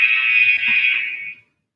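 A workout interval timer sounds one loud, steady electronic buzz, a harsh alarm-like tone held for about a second and a half before cutting off into silence.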